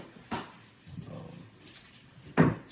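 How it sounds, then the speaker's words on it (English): A big dog named as a baby's playmate chews on a squeaky hamburger toy, giving two sharp squeaks about two seconds apart with softer rubbery handling noise between, heard fairly close with no talking. "He loves his big squeaky toys."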